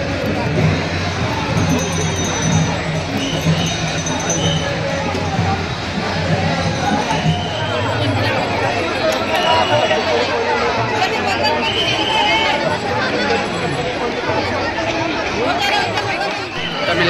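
Dense crowd chatter and babble from people queuing at Chavdar Tale in Mahad during the Satyagraha commemoration, a steady, loud wash of overlapping voices and movement throughout.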